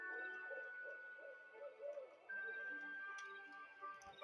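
A clock ticks faintly and steadily in a quiet room, soft regular clicks against a low background with light tonal sounds.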